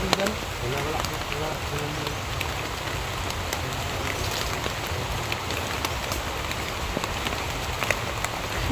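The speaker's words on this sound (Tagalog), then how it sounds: "grabe itong lakas ng ulan" Heavy rain pours down in a dense, even hiss of drops hitting surfaces, steady and continuous at moderate distance, with faint voices now and then beneath it.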